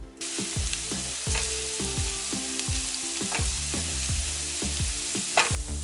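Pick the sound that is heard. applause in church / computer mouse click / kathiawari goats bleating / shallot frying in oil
shallot frying in oil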